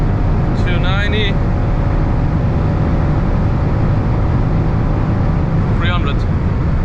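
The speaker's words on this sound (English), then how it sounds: "Let's give it some full throttle again." Alpina B5 Touring estate car at full throttle at very high speed, a loud steady engine and road roar filling the cabin without a break, with brief voice-like tones near the start and end.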